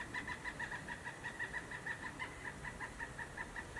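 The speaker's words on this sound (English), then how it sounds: "Seriously, that's a pileated woodpecker, which is what the cartoon character Woody Woodpecker was designed after" A pileated woodpecker calls in a long, rapid series of loud, evenly spaced 'wuk' notes that repeat steadily from start to finish, clear but somewhat distant, with no one speaking.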